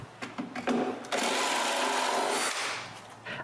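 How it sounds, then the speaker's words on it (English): A drill bores a hole in wood for an electrical box while building a wooden folding shelf, a loud, steady whine of about a second and a half that follows a few short bursts, then tapers off. "After drilling a hole,"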